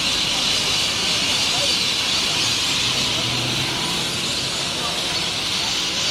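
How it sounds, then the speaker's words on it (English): A dense, constant hiss of a large flock of birds in Australia chattering and screeching at once, loud and unbroken throughout. "what you're hearing are a different type of bird"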